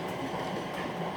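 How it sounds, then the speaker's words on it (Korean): A light rail train pulls into the Anpyeong depot station with a steady, moderately loud rumble of wheels on track, a continuous rolling noise with no voices. "열차가 기지 내로 접근합니다."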